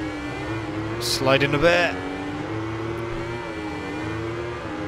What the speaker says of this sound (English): You can hear it over your own bike noise.